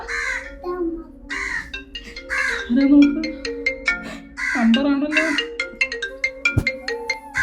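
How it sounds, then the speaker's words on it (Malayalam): A phone ringtone plays in a home setting, a bright repeating chirpy melody in short bursts with a bird-like, cawing quality, rising and falling over several seconds with a sharp click near the end. "നിന്റെ ഫോണാണല്ലോ അടിക്കുന്നത്"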